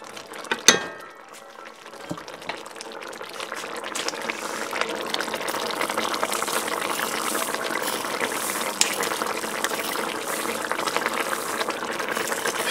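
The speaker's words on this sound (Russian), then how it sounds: "И теперь засыпаем рис." Uncooked rice tipped into a pot of boiling liquid for stewed rice with onion and carrot: a sharp rattle at the start, then a steady bubbling hiss and clatter that carries on to the end, close by, with no talking.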